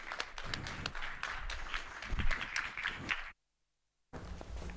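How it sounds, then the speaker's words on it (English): Applause from a conference audience greets speakers, moderate and fairly distant, with scattered claps over a room murmur before a sudden cut to silence and then a brief return. "Give them a warm round of applause."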